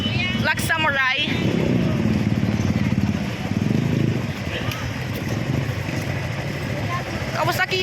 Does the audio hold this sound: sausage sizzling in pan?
no